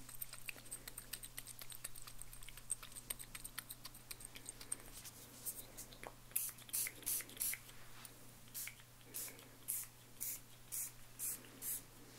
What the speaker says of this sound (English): Just gonna finish with a little chakra spray.